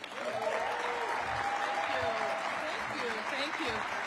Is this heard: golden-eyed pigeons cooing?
no